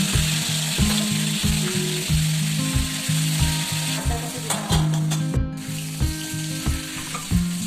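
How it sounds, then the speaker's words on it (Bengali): Eggplant slices fry in hot oil in a wok, giving a steady, loud close-up sizzle with crackling and occasional clinks of a utensil against the pan, with no talking. "এখন এই যে বেগুনগুলো এক এক করে ভেজে ফেলবো তেল বেগুন হবে"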